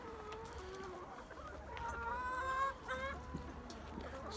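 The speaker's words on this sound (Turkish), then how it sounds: "Bakın bu tavuk yumurtluyor arkadaşlar" Hens cluck steadily in a backyard coop, with a louder bird breaking into a rising, drawn-out laying cackle midway through, all close and unaccompanied by talk.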